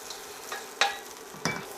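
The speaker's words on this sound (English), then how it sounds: "this venison browned up nicely" Venison pieces searing in a hot stew pot, a soft continuous sizzle with a few sharper spits and stirring clatters standing out, fairly quiet and with no voices.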